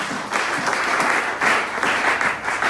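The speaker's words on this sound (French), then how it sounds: "Acclamons très fort le Seigneur." A church congregation at a French Easter seminar breaks into loud, sustained applause, dense clapping from many hands filling the room without pause.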